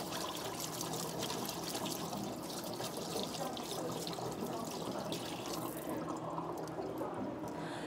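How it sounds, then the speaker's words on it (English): Water runs steadily from a tap over a wet cloth textile antenna held beneath the stream, a continuous broadband gush and splash that stays close and even throughout, with no voices. "I'll turn on a tap and put it underwater"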